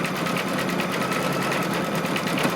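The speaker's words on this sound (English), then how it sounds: "it's going to do a little cover stitch that's kind of a little decorative stitch around it" An embroidery machine runs a decorative cover stitch on a quilt block, a fast, steady mechanical needle chatter that holds constant and loud before cutting off abruptly at the end.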